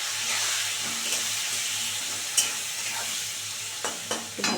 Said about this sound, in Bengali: একটু ভাজা করে নেবো এটা